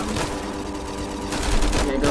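Rapid gunfire in the zombie shooter game Valour Zombies, a dense continuous rattle of shots filling the short stretch, growing slightly louder toward the end, with speech faintly present.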